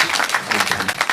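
A crowd at a Kenyan burial ceremony for a senator's father applauds the senator, a brief burst of dense, fairly near clapping with a few voices mixed in.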